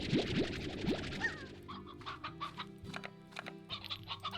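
Chickens in a video game clucking and squawking in quick, close bursts, with a rising call at the start and busy scattered clucks following.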